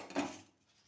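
A metal kadai (wok) set down on a kitchen stove gives a single close clank with a short ringing tail, which fades into quiet.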